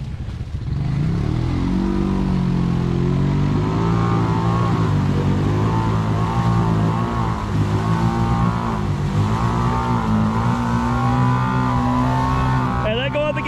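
A Honda Rancher 350 ATV engine revs hard and holds high, a loud, close, continuous engine roar whose pitch rises and dips with the throttle, with speech likely buried under it.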